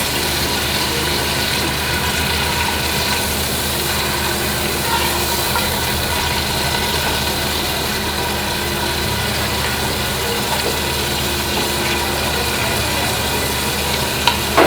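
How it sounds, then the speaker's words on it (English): Minced meat fries in a pan during a catering class, a loud, continuous sizzle with faint scraping underneath and a couple of sharp clinks near the end. "So you let it fry for like 2 minutes."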